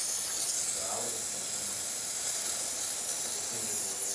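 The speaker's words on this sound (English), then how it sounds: "And steam, as you can see, pretty fast," Steady, loud hiss of a Jura Impressa S9 espresso machine steam wand running continuously, a constant broadband rush with no pauses.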